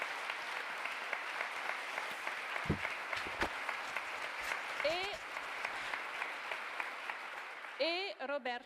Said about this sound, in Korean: Questi applausi erano doverosi